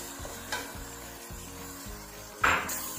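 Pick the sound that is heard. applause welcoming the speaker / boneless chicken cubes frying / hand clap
boneless chicken cubes frying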